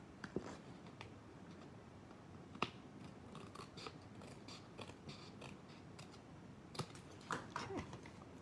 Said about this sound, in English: all I'm going to do is I'm going to snip off the edges